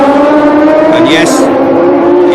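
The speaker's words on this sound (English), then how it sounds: "The car has the most fantastic sound to it." A Formula 1 race car engine at the 1976 Long Beach race howls with a loud sustained high-pitched tone, steady and close, with a brief rising shift midway as it passes.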